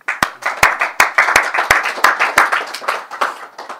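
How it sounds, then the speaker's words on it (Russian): Church congregation clapping together: a short burst of steady, rhythmic applause with sharp, close hand claps over a softer wash of many hands, fading slightly toward the end. "Давайте похлопаем."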